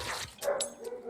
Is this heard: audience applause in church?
no